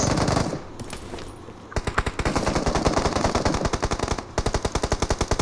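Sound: gunfire from BGMI video game

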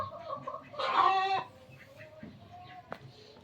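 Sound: hens clucking

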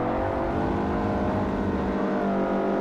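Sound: Toyota Yaris race car engine in Forza Motorsport 4 video game

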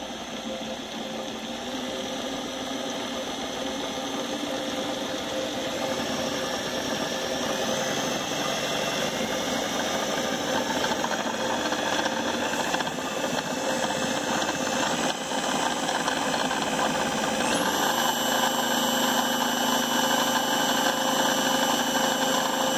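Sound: 400W eBay wind turbine spinning up on bench test

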